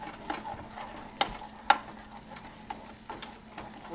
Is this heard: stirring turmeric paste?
yes